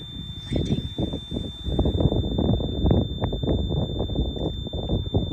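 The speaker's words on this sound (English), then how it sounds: "we're getting an alert, and you can hear the buzzer." A UAS Sentry Remote ID receiver sounds a continuous high-pitched electronic alert buzzer, triggered by a nearby drone, steadily over gusty wind noise and low rumbling outdoors.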